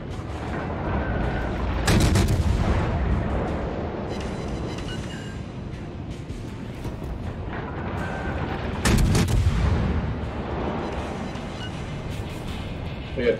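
Warship guns boom in the naval combat game World of Warships, two heavy distant-sounding salvos several seconds apart, each a sharp blast trailing into a rumbling decay over a constant low background.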